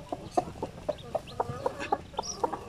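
Newly hatched pure Basilan chicks peep in a steady series of short, soft, chirpy calls, close by and repeating about every quarter second, with no voices over them.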